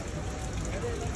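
Steady rain falling outdoors at night in Romania, a dense continuous hiss of drops close by, loud and even throughout the short stretch with no pauses.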